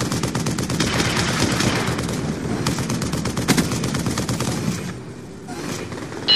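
Rapid automatic gunfire in Call of Duty: Black Ops 2, a loud continuous machine-gun burst with dense rattling shots for several seconds before tapering off near the end.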